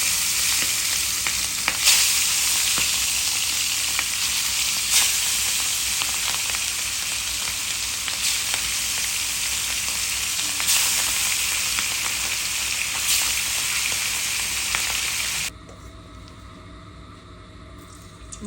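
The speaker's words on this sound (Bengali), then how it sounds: "দিয়ে দিলাম মাছ ভাজা।" Hilsa fish frying in hot oil in a kadai, a loud, dense, continuous sizzle close by that drops sharply near the end.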